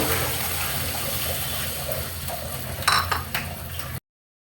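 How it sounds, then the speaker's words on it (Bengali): A bowl of water poured into fried spice masala for an egg bhuna curry, a steady watery gush that ends abruptly, with a few brighter splashes near the end. "আমার মশলা কষানো শেষ, এখন দিয়ে দেব 1 বাটি জল।"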